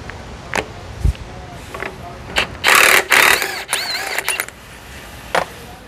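A tool working on the harmonic balancer of a 2017 Nissan Rogue engine during timing cover removal: scattered metallic clicks and ratcheting bursts, with a couple of longer whirring runs in the middle, close and fairly loud.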